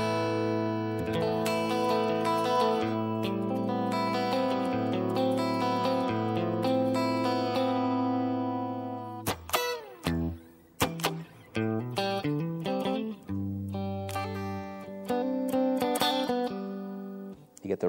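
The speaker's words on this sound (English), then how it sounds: "So now we have two single coil pickups working together, and this is an amazing sound, especially when you're playing clean." A Stratocaster electric guitar plays a clean tone with two single-coil pickups combined, first sustained ringing chords, then a brighter run of picked notes and arpeggios, close and clear.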